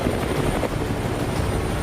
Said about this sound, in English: Russia continued to apply pressure by deploying Ka-52 attack helicopters